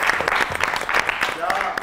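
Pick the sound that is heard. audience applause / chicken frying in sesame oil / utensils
audience applause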